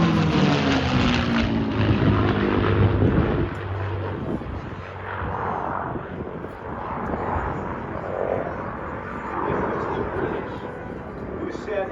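A P-51 Mustang's piston engine roars loudly overhead at an airshow, a throaty propeller drone that swells then gradually recedes into the distance as the plane flies past.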